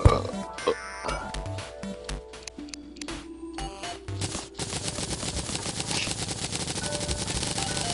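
Rapid machine-gun fire in the Terraria video game, a steady fast stream of shots building in the second half over chiptune-like game music and effects.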